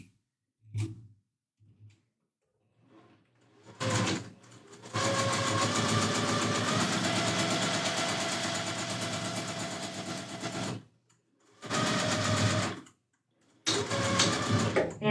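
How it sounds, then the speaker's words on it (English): A sewing machine runs in long steady bursts while its presser foot is raised and lowered with a knee lifter during quilt block piecing, with short mechanical clicks and pauses between the runs, close and clear with no talking. "as I move my knee, the presser foot is lifting and lowering."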